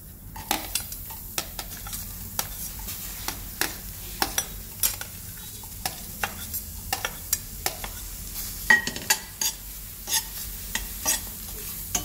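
Onion dry-roasting without oil in a Healux pan, stirred with a utensil that scrapes and taps in a steady irregular rhythm over a faint sizzle, close up with no voices.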